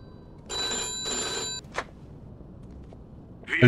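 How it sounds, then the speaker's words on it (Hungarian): An old-style telephone bell rings in two bursts in the video game Mafia II. A short click follows, then a voice starts talking at the end. "csörög megint a telefon"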